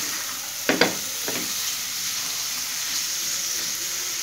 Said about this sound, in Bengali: পেঁয়াজটা ভাজবো, ভাজা ভাজা হলে তারপর আমি একে একে সব মশলা দেব